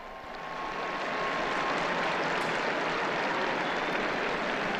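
A large crowd in St. Peter's Square applauds Pope Francis as he appears at the window for the Regina Coeli, a dense, steady wash of distant clapping that swells in the first second and then holds, with no voices over it.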